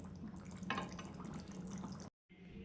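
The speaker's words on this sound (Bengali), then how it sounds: "দেখো ফাইনালি আমি তরকারিটা ঢেলে নিয়েছি" Cooked potato curry poured from a pot, a soft wet slosh and trickle with a brief surge, faint and close, cutting out near the end.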